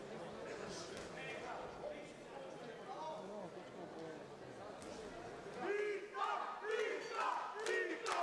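Boxing audience at a bout in Yambol cheering and shouting steadily throughout, swelling louder near the end, with voices mixed into the crowd noise.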